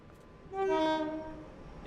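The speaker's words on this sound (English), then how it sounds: "train's leaving" A Class 87 electric locomotive in Train Sim World 5, on the West Coast Main Line in snowy weather, sounds a short tonal horn as it departs, rising over a low rumble and then fading.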